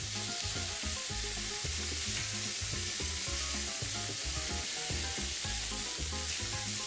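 Loud, steady sizzling of meat searing in a hot pot on an industrial stove for feijoada, with crackling pops and scraping stirs throughout; no voices.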